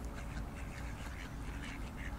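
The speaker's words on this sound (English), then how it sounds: "Cute little ducks." Ducks by a lake quack in a scattered, repeated chorus, moderately faint against a low background rumble, with no voices.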